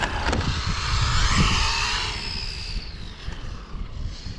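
A Maverick Strada brushless RC car with a 5000KV motor whines past on a straight, its high-pitched motor note swelling loud and then falling in pitch as it moves away, with no talk.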